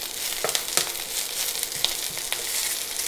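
Leftover mashed potato fry-up sizzling in a single pan, a steady close hiss of frying with occasional scraping and stirring clicks, no voices over it.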